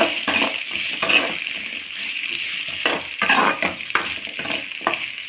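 Chopped onions and three green chillies sautéing in a pan for chutney, with a steady sizzle and repeated scraping stirs of a spoon against the metal.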